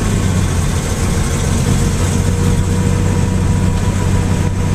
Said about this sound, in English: Be able to hear a little bit of the misfiring from the timing and the carbs not being tuned